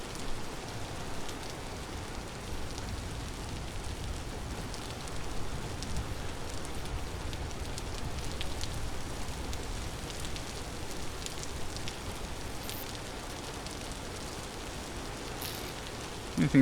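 Steady rain falls in a constant, soft hiss on a Vintage Story game world during the Neolithic period. A few faint drop clicks are scattered through it, and a brief thump comes at the very end.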